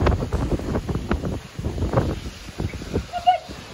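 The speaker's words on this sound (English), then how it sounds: "Yeah, it got windy." Gusty seaside wind on Singer Island, Florida, buffets the microphone in loud low rumbling surges throughout, with distant surf beneath.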